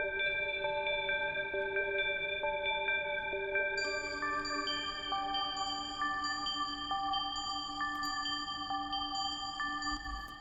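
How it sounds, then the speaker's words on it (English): Synth arpeggio from the Electra X plugin for an ambient beat, a soft, steady pattern of pure, bell-like tones stepping through a repeating sequence, quiet and alone without any voices. "I just took this ARP out of Electra X"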